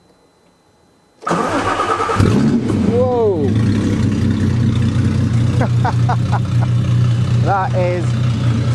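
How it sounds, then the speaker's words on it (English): The rebuilt supercharged engine of a Nissan R32 cranks and fires on its first start-up, then settles into a loud, steady, rumbling idle close by while a man exclaims over it. "Right, first start up, supercharged engine,"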